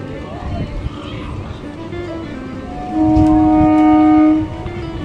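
A train idles at a station with a low rumble and squealing metallic tones, a sustained horn-like note sounding midway, while people talk nearby.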